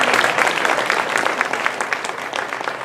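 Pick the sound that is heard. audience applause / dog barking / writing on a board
audience applause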